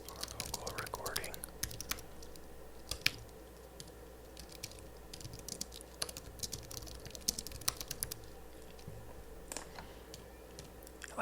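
Light tapping on a computer keyboard in a quiet room, with scattered soft clicks and short bursts of keystrokes spread irregularly across the clip over a low background hum.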